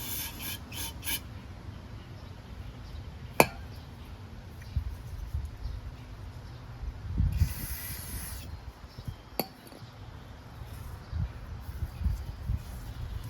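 Short bursts of aerosol spray hiss as a Snapper lawnmower's Briggs & Stratton 5 HP carburetor parts are cleaned in a quiet setting, with a longer spray in the middle and faint handling noises between.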